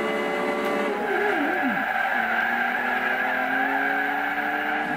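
Tires squeal and skid under hard braking of a car in Forza Horizon 2, with whining, sliding pitches over a steady engine drone, loud and close throughout.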